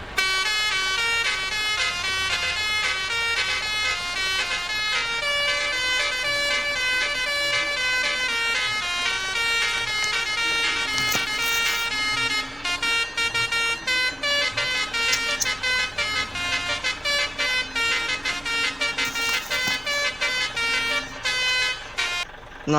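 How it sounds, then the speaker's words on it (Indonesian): A basuri-style musical bus horn in Bus Simulator Indonesia, on a Hino RK bus, plays a loud, continuous multi-tone melody with shifting notes that runs for about twenty seconds without pause. "teruntuk klakson 3 ini adalah basuri ya cuy"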